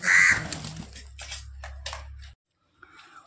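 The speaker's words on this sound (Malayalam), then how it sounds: "കാക്കകൾ നിരന്നിരിക്കും നോക്കൂ കുറേ കാക്കകളുണ്ടായിരുന്നു" Crows caw in a rural village, a few harsh, close calls bunched at the start, then fainter scattered caws over a low steady hum before a brief near-silence.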